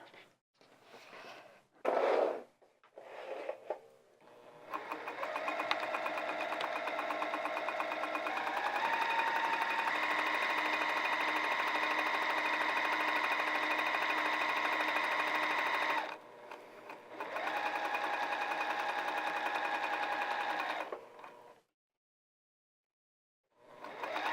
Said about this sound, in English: now I'm going to start sewing down here, and I'm going to go all the way to the end, leaving these short ends open